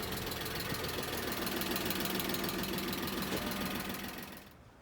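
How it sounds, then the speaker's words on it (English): An Audi A8 engine with rod knock, parked in park on low tires, runs steadily with a dense mechanical knocking rattle near and loud, then fades out toward the end. "Rod knock."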